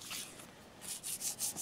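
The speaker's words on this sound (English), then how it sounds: "So I'm going to just buff this with 2400." Fine 2400-grit sandpaper buffs a chip repair on a ceramic snowman plate, leveling orange peel. It makes soft rhythmic hissing strokes, fainter at first and then a run of four or five distinct rubs, close up with no talk.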